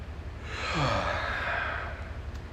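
A single yawn rises into a long breathy exhale, the voiced tone sliding downward over about two seconds, near and soft against a quiet room.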